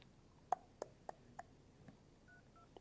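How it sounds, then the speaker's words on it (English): Keypad tones from dialing a number on a phone, a run of four or five short, evenly spaced beeps followed by faint ringback tones, quiet and alone with no talking. "I know watching me dial is fascinating."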